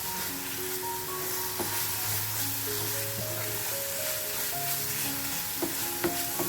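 Egg mixture with salt and turmeric stirred in a pan, a faint steady sizzle with a few light spoon taps against the pan, close and quiet with no talking.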